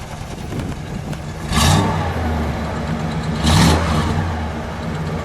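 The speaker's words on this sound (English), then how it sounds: "Let me get a little exhaust note." A car engine blipped twice while parked, each rev rising sharply over a steady idle and settling back, with a smooth exhaust note close by.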